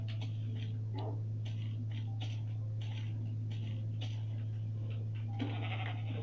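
Minecraft sheep bleat in short nasal calls repeated every second or so over a constant low electrical hum, with ticking game sounds mixed in.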